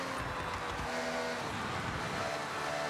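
Ferrari F80 in Forza Horizon 6 driving with a steady, loud engine drone that holds throughout and carries no talk, the tone shifting only slightly as the car turns.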